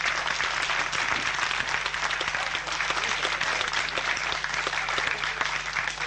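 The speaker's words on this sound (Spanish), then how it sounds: "Entonces comience a aplaudir" An audience at a tango tribute show applauds with steady, dense clapping that keeps the same level throughout. A faint voice sits under the applause.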